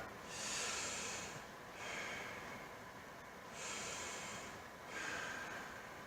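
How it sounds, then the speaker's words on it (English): Slow, exaggerated diaphragmatic belly breathing done to expand the stomach, heard close up as four long, airy breaths rising and falling in a steady rhythm with no talking. "So that is me breathing using my belly, or doing some diaphragmatic breathing."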